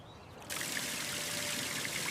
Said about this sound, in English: Look! The water is running away!